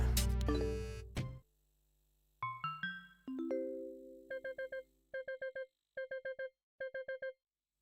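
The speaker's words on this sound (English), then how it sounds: "Okay, we have a notification here." Short electronic notification chimes from the video game Corponation, first a few rising tones, then four quick bursts of rapid beeping, each a tight cluster of bright bleeps, fairly quiet and separated by brief gaps after an initial noisy passage.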